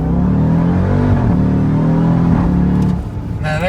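A Hennessey HPE850 accelerating hard, heard from inside the cabin as a loud, continuous engine roar whose pitch climbs through the gears, with a brief dip near the end before it pulls again.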